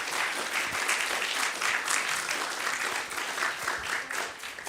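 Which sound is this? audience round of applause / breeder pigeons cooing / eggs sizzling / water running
audience round of applause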